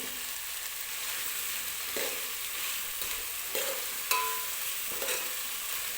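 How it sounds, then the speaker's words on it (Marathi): Mixed vegetables and spices frying in oil for veg pulao, with a steady sizzle and occasional scrapes and knocks of a spoon stirring the pan, no voices. "अशा पद्धतीने व्यवस्थित आपल्याला सगळ्या भाज्या आणि मसाले वगैरे व्यवस्थित भाजून घ्यायचे आहेत."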